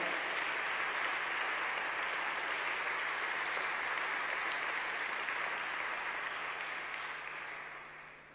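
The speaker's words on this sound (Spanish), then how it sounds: "Denle un aplauso al Señor." A congregation at a church service applauds with broad, dense clapping that holds steady for several seconds and then fades, heard alone without talk.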